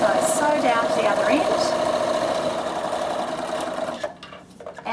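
A sewing machine stitching a beach towel bag runs in a fast steady whir close by, then stops abruptly near the end, leaving brief quiet.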